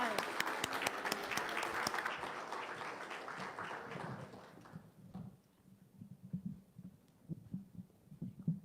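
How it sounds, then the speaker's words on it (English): A church audience applauds a performing group, with a dense burst of clapping that fades out after about four seconds, followed by low thumping sounds and quiet murmuring. "Please give them a round of applause."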